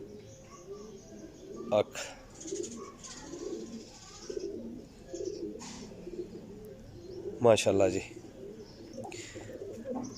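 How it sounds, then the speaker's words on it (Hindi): Soft, low cooing from a Teddy Golden pigeon repeats in the background while someone talks, with a couple of sharp clicks or taps. "टैडी गोल्डन कबूतर है"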